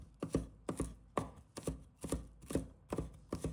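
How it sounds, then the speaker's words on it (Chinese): A kitchen knife crushes and chops a piece of fresh ginger on a board, giving about nine crisp, close knocks in an uneven rhythm. "一块生姜，同样拍碎切粒，辛辣香气扑面而来"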